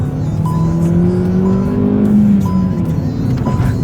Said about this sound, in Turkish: Babacım bir duyur şu motoru ya.